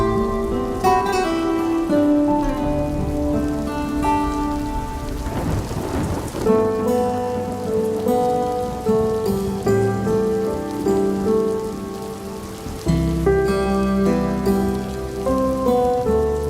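Steady rain patters and hisses without a break, with rolling thunder rumbling through it and one louder crash in the middle, and no voices.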